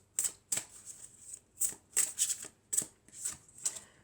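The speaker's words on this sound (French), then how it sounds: "Et on va prendre une troisième carte." Tarot cards are shuffled and drawn by hand, close up, in a quick series of crisp riffles and snaps spaced irregularly, with no talking.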